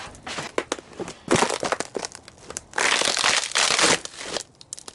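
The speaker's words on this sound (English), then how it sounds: "See how I break that? That's glass in plastic." Thin glass laminated inside plastic from a flat screen TV is snapped and crushed by hand, giving dense crackling, crinkling and crunching in bursts, close and fairly loud.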